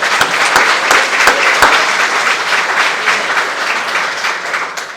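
Loud, sustained applause from a crowd at a women in leadership luncheon, many hands clapping densely with a few sharp claps near the start, slowly easing off.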